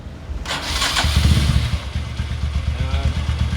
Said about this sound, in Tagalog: Ngayon, papanda rin naman natin yung motor.